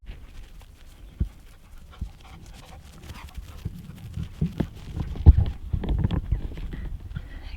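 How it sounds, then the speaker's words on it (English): A puppy dashes around excitedly in a garden, its paws pattering and scuffling close by in quick irregular bursts along with soft panting, building busier toward the end. "Got some puppy zoomies going on."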